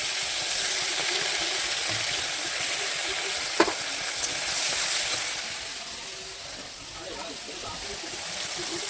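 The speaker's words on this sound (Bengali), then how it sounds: "কালো জিরে দেওয়ার পরে এই যে এর মধ্যে আছে সর্ষে বাটা আর পোস্ত বাটা, কাঁচা লঙ্কা আছে" Mustard and poppy seed paste with green chillies and nigella seeds fries in hot oil, giving a steady loud sizzle that fades slightly toward the end, with a couple of brief clinks partway through.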